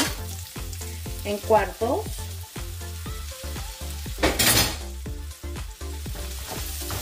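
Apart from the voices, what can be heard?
onion frying in pan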